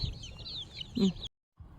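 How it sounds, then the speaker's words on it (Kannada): Country chicken chicks clustered around a feed tray give soft high peeps and chirps over low pecking and rustle, then a brief drop to near silence before faint activity resumes. "ಎಲ್ಲ ಮರಿಗಳು ಈಕ್ವಲ್ ಆಗಿ ಬಂದು ತಿಂತವೆ ಈ ಥರ ಕೊಟ್ಟರೆ ತುಂಬ ಇಷ್ಟಪಟ್ಟು ತಿಂತವೆ"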